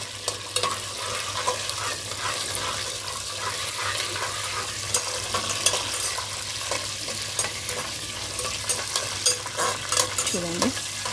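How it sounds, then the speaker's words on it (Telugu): Dried red chillies are stir-fried in mustard oil in a pan. There is a steady sizzle with frequent scraping and clinking stirring strokes, heard close and continuous with no talking. "ఓకే, సో ఏం చేద్దామంటే ఇది కొంచెం సోతే చేసుకుందాం"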